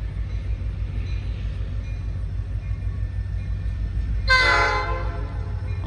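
A freight train pulled by three locomotives rumbles steadily with a deep engine drone, and a short, loud horn blast sounds near the end.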